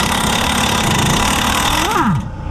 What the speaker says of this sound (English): Remove these two 18s for the brake caliper bracket that holds on to the steering knuckle.